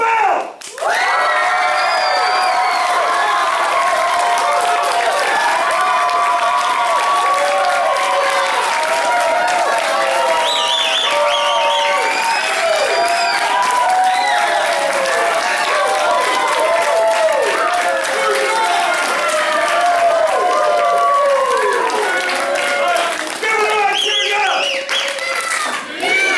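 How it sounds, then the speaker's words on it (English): A crowd at a family martial arts center belt ceremony in Mount Dora claps and cheers without pause for about half a minute, with excited children's shouts mixed into the loud, sustained applause. "Big round of applause."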